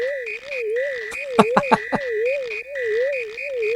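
Frog Sage croaking in Super Mario RPG on the Super Famicom: a warbling synthetic game tone runs throughout, and a quick cluster of three or four sharp croak bursts pops out in the middle.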